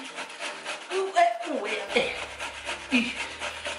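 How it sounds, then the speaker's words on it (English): Taro is grated by hand for fa'ausi, making rhythmic rasping scrapes repeated at close range, with voices talking over the strokes. "You want to have a turn grating?"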